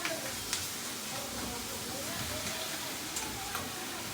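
Ginger garlic paste frying in hot oil with curry leaves for Banjara mutton, a steady soft sizzle and hiss with a few small pops, heard close but faint.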